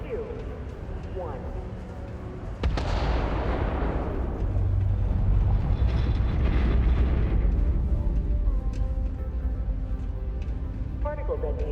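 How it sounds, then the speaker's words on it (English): A sudden loud blast from a particle detonation in Starfield, followed by a long, heavy roar of explosions and rumbling debris that slowly fades, with faint tones and a voice over it. "Particle detonation concluded"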